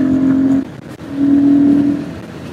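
A Royal Enfield Guerrilla 450 motorcycle engine pulls in fifth gear past 4000 RPM, a loud, close steady drone that dips briefly and then rises again before fading slightly at the end.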